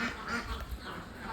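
Ducks on a duck farm in Bangladesh give a few faint, muffled quacks in a short burst against soft background noise.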